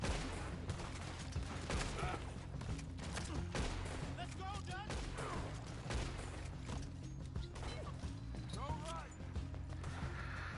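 Chaotic gunfire in Red Dead Redemption 2 erupts while shooting up a town during a bank job, with dense overlapping shots, crashes and horse sounds in a busy game soundscape, and voices talking over it throughout.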